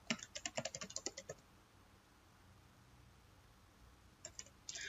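A password goes in on a computer keyboard: a close burst of about a dozen quick keystrokes, then a quiet pause before a few more taps and a final clatter of keys, with no talking.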